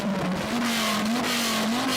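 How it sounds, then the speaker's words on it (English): A third-generation Dodge Viper engine revs with a relocated exhaust, holding a loud, steady, deep droning note that rises and falls slightly. "Go on, rev it up."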